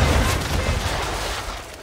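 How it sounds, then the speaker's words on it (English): Ship cannons firing at an enemy vessel during a naval battle in Assassin's Creed 3, a loud dense broadside boom that rolls into a decaying rumble. "Now, aim all guns at her bow and do as much damage as possible."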